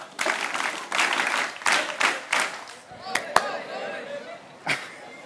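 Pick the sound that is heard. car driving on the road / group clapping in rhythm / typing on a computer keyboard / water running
group clapping in rhythm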